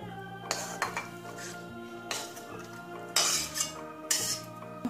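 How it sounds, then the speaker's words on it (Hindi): Metal spoons scrape and clink against a bowl as spicy garlic pickle is scooped over, giving several sharp, irregular chinks close by over a busy kitchen clatter. "अब हम इसे बाउल में निकाल लेंगे।"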